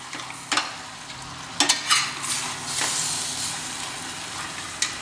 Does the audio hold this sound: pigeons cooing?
no